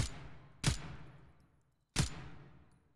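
Two loud, sharp assault rifle shots in the video game Zero Hour, spaced over a second apart, each with a sudden crack and a long fading tail against quiet background.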